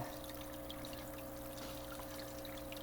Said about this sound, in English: And our waterfall is starting.